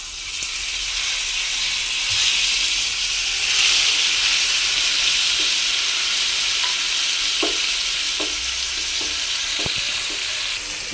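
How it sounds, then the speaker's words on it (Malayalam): Small pieces of chicken marinated with pepper powder, chili powder, vinegar and salt fry in a pan, giving a loud, continuous sizzling hiss near at hand, with a few soft clinks of stirring toward the end. "ഞാനതിന് ചിക്കൻ ആദ്യം ഒന്ന് ചെറിയ പീസായിട്ട് പൊരിക്കാൻ"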